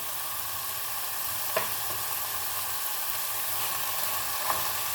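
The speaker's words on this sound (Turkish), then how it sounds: "Evet, tekrar Kavurmaya devam ediyorum." Okra sautéing with tomatoes and peppers gives a steady, moderately quiet sizzle, with two brief utensil taps as it is stirred, and no one speaks.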